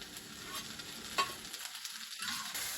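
Leeks fry in a pan for coconut fish, a soft continuous sizzle with light stirring scrapes, fairly quiet and close.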